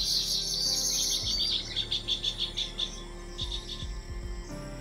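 A male bird calls from inside bamboo with a series of high, thin chirps, a steady shrill trill followed by rhythmic repeated notes, fairly close against a quiet natural background.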